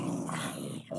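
Wolves growl in a Minecraft-style survival game as a hostile pack approaches, a short, dense, rumbling snarl with no talk over it.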